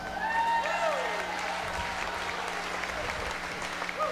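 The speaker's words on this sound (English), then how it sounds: "we want to have a nice round of applause for Ben and Brian" Concert audience at Musikfest claps and cheers for the sound crew, a moderate wash of applause with scattered whistles and shouts rising near the start, then settling.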